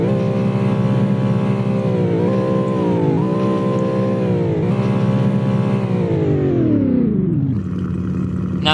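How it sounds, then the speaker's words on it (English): A car engine in the Roblox game Greenville revs in several loud surges, pitch climbing and dropping repeatedly before a long falling wind-down near the end. "Alright, and then rev."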